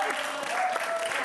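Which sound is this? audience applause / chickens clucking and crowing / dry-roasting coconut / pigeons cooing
audience applause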